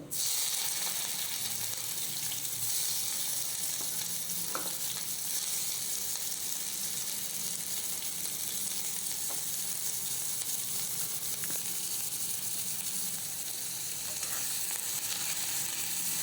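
Onion fries in hot oil with cumin seeds and a bay leaf, giving off a continuous, even sizzle with only a few faint clicks over its length; no voices.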